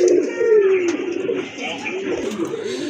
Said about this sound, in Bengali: এটা কিন্তু অনেক ভালো ডাকে কবুতরটা, এই যে দেখেন ডাক কিন্তু অলরেডি শুরু হয়ে গেছে